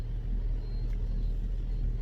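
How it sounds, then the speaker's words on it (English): Steady low road traffic rumble from cars idling and creeping along at a roadblock with temporary traffic lights, a continuous engine drone with no talking. "Oh, what's this traffic now?"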